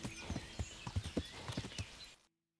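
A horse's hooves clip-clop at a walking pace in the medieval video game Kingdom Come: Deliverance, with about a dozen even, moderately loud strikes over two seconds before the sound cuts to silence.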